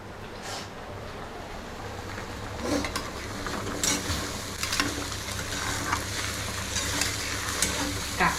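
Crab fries in a pan for a Bengali-style crab dish, with a steady close sizzle and intermittent scraping stirs over a low background hum, and no talk.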